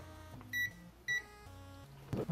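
Continuity tester beeping while probing the wiring of a Famicom AV cable, two short electronic beeps in quick succession amid low hum and faint clicks, ending with a brief rustle.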